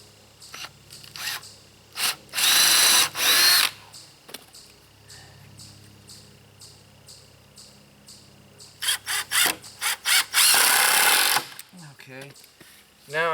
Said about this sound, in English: The drill is crawling.